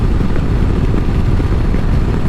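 Intake roar of a newer Harley-Davidson motorcycle engine, a steady, loud low rumble that runs unbroken and close throughout, with no voices over it.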